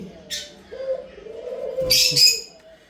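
Pet lovebirds and budgerigars chirp in a home cage, giving short bright calls and squawks near the microphone, with a brief burst early on and a louder cluster of chirps toward the end over a low background hum.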